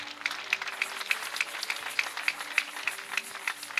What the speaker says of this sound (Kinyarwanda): amashyi kwa Yesu menshi cyane